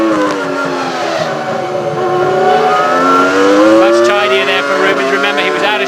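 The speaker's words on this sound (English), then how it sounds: "Let's listen to that Ferrari engine." Rubens Barrichello's Ferrari Formula 1 car at the Brazilian Grand Prix qualifying, its high-pitched V10 wailing steadily and rising through the gears as it passes, with a commentator talking over it.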